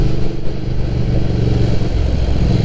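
Triumph Thruxton motorcycle engine running steadily with a dense low rumble and clattery mechanical texture, close and loud throughout without obvious rev swings; no voices.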